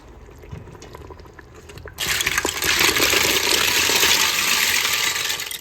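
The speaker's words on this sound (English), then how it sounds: "First, I'm gonna put in the 2 crabs that I bought earlier." Two crabs going into a pot of water on a stove, a faint splash and clatter followed by a loud, steady rushing hiss of boiling liquid that fills the space, with no talk.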